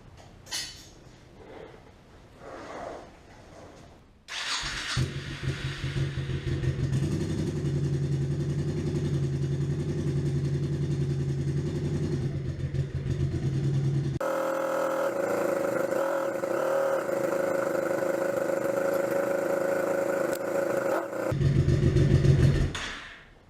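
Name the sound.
Honda Shadow Spirit 1100 motorcycle engine starting and idling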